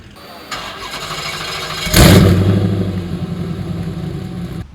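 A PT Cruiser fitted with a swapped 392 HEMI V8 turns over and fires up with a sudden loud roar, then settles into a deep, lumpy rumble that gradually eases back, with steady background noise before it starts.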